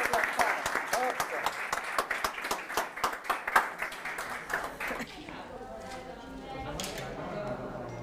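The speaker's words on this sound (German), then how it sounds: "Bitte einen Applaus für Rosalia." Sparse, scattered clapping from a small gathering at a political event, individual claps distinct, fading out midway into murmuring voices and faint background noise.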